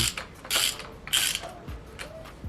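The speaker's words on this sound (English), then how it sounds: "this is a 60mm and a ratchet with an extension on it. And we're going to loosen it up. And now we're going to unscrew it" A ratchet with an extension clicks in short bursts of close, crisp ratcheting as it unscrews a spark plug from a Toyota Corolla engine, with quiet pauses between strokes.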